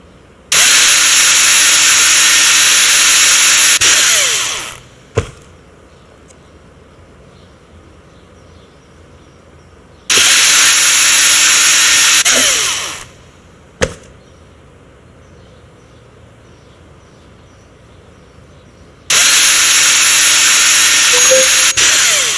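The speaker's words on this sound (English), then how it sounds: "Use your drill and screws to set it into place." A power drill drives screws into a cabinet being set against wall studs: three loud, close bursts of whirring, each lasting a few seconds and winding down, separated by quiet pauses.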